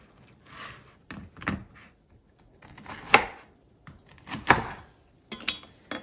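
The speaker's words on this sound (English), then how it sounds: "I just cut them like in three sections" Knife cutting churro waffles into sections on a board, a few distinct crunchy chops and thuds spaced apart, close but soft.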